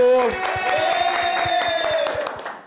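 Studio audience on a Brazilian TV singing-contest show bursts into brief applause and cheering, loud and close, while a voice carries over the clapping.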